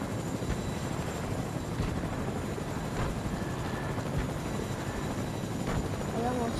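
A helicopter in a video game gives a steady, even rotor drone throughout, with a player talking over it.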